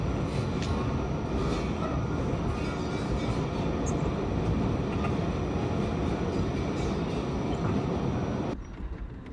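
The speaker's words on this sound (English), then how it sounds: "This was shot from a subway in New York." Inside a moving New York subway car, a steady, loud rumble and rattle carries on with faint squeaks, then cuts off near the end.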